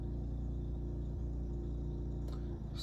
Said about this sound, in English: It sounds like my neighbor is snow blowing.